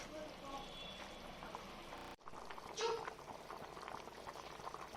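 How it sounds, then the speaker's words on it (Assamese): A pot of fish curry cooked with kohlrabi simmers at a gentle boil, giving faint, continuous bubbling with a brief cut partway through. "আকৌ পুনৰ 2-3 মিনিটৰ কাৰণে এইখিনি মই ভালকৈ উতলিবলৈ দিম"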